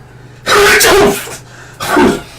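A loud, close sneeze bursts out, followed a moment later by a second, shorter sneeze-like exhalation.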